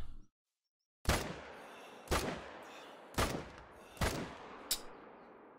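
Five sharp gunshots in the hunting video game theHunter: Call of the Wild, loud and close, spaced about a second apart, each with a short reverberant tail; no voices.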